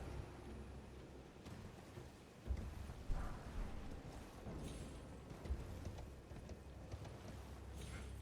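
A horse gallops in the video game Elden Ring, rhythmic hoofbeats clopping steadily at moderate volume with occasional thuds and game effects mixed in.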